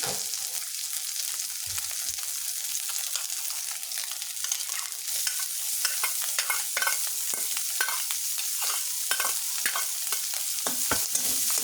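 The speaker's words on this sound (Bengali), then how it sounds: "আমি সয়াবিন তেলটা দিয়ে ভাজছিলাম মাছটা, আর একটু সরিষার তেল দিলাম।" Small river fish sizzle steadily in hot soybean oil with some mustard oil added, a close, continuous crackling hiss broken by frequent stirring scrapes and pops.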